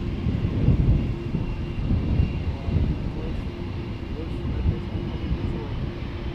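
A departing aircraft at Amsterdam Schiphol Airport during parallel runway operations: a deep, continuous roaring rumble that stays loud and steady throughout.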